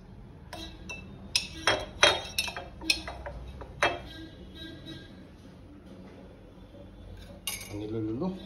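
A metal spoon clinks against a glass jar or dish while scooping honey in a home kitchen, with several sharp clinks clustered early and a few more later over low background noise.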